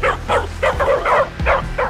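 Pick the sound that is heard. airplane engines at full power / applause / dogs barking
dogs barking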